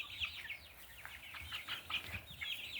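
Two hens, a Rhode Island Red and a Cornish Rock Cross meat chicken, cluck and chatter in short, soft bursts that repeat irregularly over a quiet background.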